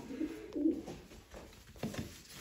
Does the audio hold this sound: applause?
no